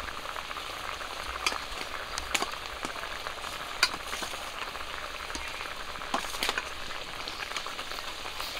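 Fried brinjal is added to a pabda fish curry in a pan, where it sizzles and fries steadily with faint crackles and pops throughout, and no one speaks.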